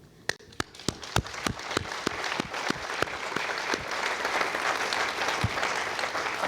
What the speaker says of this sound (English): il faut applaudir pour Frascati